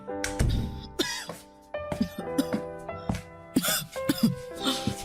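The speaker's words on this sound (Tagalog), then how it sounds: "ang tindi ng ubo niyo." An older woman in a Filipino drama scene coughs heavily in a string of harsh, strained bursts, some drawn out and groaning, loud and close, with brief pauses between them.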